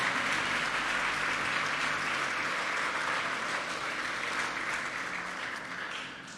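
A church congregation applauds in sustained, dense clapping that fills the room evenly and fades slightly toward the end, with no voices over it.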